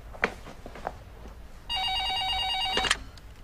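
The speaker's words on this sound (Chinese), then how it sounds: "接电话，接电话，你的。" A telephone rings indoors with a single sustained electronic trill lasting about a second, loud and near, preceded by a few faint knocks and handling sounds in an otherwise quiet room.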